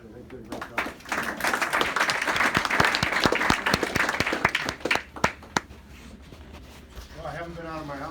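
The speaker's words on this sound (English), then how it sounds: "We should give Mr. Morrow another hand of applause, but I think he did a great job." Applause from an audience at a political campaign event in Johnston, Iowa, swelling to a dense patter of claps for several seconds, then thinning into scattered claps before a voice begins speaking near the end.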